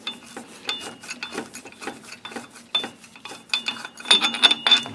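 A wrench works a bolt on an Intek V-twin engine in a run of quick metallic ratcheting clicks and scrapes, close and uneven, growing busier and louder toward the end.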